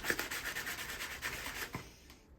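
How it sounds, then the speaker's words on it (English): Soil is scraped off the bottom of a packed soil blocker, a short run of rough, rhythmic rasping strokes close to the microphone that trails off after about two seconds. "Kind of scrape off the bottom so we get a little bit even."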